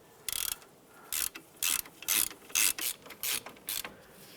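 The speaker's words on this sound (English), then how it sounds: "we'll snug those down with our ratchet" A ratchet snugging down bolts on a 2001-2005 Honda Civic ball joint, with about nine quick bursts of close, crisp clicking separated by short pauses.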